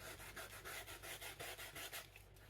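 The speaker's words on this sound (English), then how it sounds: "you want to use sandpaper that's very fine, because you're really just smoothing out" Fine sandpaper rubbed back and forth over a cap brim in a steady, rhythmic rasping, about a dozen quick strokes, close and quiet with a faint hum underneath.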